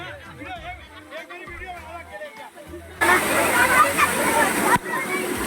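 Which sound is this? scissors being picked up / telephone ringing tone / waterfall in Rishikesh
waterfall in Rishikesh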